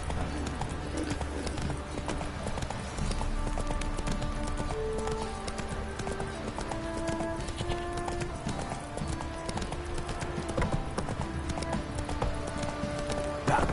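Steady clip-clop of horse hooves in the video game Witcher 3, a continuous rhythmic trot under a synthetic background of sustained tones, with no talking.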